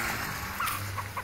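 Short, soft clucks from a chicken at an outdoor animal market in Inhuma, Piauí, Brazil, over a steady background hum, a few brief calls spaced across the moment.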